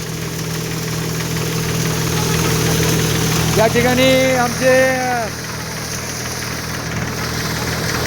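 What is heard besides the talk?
tractor-driven sorghum threshing machine running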